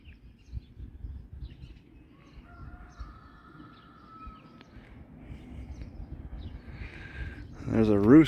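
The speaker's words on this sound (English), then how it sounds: "There's a rooster off in the distance somewhere." A rooster crows somewhere far off in rural Summersville, Missouri, faint and thin beneath steady wind-like rumble and handling noise, with a louder burst of nearby sound at the very end.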